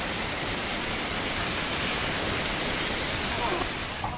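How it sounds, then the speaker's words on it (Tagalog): A high-pressure water cannon blasts a ship at sea, a dense, steady roaring hiss of spray that fills the whole stretch loudly and evenly. "Ito matama na yung water cannon."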